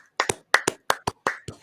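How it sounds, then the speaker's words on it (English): Hands clap close to the microphone in quick pairs, about eight sharp claps in a brisk syncopated rhythm, with no talk over them. "I got to clap it out real quick"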